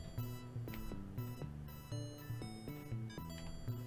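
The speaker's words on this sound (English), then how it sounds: "Alarm system." The alarm system sound from the Amiga video game The Clue is a rapid electronic beeping tune, with short tonal pulses repeating in a regular looping pattern about twice a second, clear and alone.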